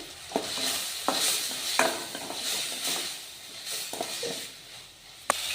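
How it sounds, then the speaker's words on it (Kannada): Spiced snack mixture with coriander powder and salt stirred and frying in a pan, a steady soft sizzle broken by several sharp scrapes and clinks of a spoon against the metal. "ಇದು ಫ್ರೈ ಆಗಲಿ"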